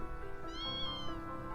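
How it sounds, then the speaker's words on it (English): A cat meows once in the video game Ys X: Nordics, a short, close, rising and falling cry over a soft background of game music. "Oh, it was just a cat actually."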